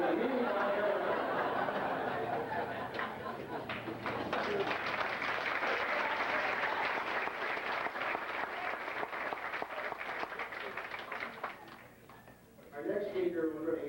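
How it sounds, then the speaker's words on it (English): A banquet crowd gives a standing ovation at a 1997 retirement banquet, a long, dense roll of clapping that swells and then fades. Voices talk before the clapping begins and again after it ends. "The crowd stands up and gives him a standing ovation"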